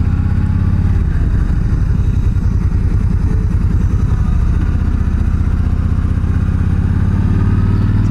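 A motorcycle carrying a passenger rumbles along steadily, its loud low engine drone and rapid pulsing exhaust note continuous throughout, with no voices heard.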